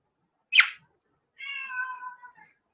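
A cat gives a short, sharp squeak followed by a longer, drawn-out meow, close and clear in a quiet room.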